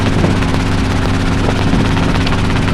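Heard from a training helicopter in flight, the engine and rotor give a loud, steady, close drone with a low throb that never lets up. No one speaks.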